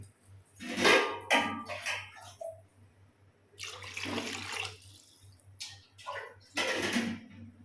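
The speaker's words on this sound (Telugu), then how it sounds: "ఇప్పుడు వాటర్ పోసుకోవాలి వాటర్ అనమాట ఒక మూడు గ్లాసులు అయితే పోస్తున్నాను" Water from a glass poured into a pot of mutton gongura curry, several separate splashing pours with short pauses between them, close and fairly loud over a low steady hum.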